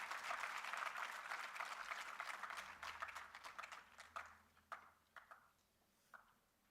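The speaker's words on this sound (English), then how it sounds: "Can we have a round of applause for our dignitaries as they light the lamp?" An audience applauds dignitaries lighting the ceremonial lamp at a university event: dense clapping that holds steady, then thins into scattered claps and fades out.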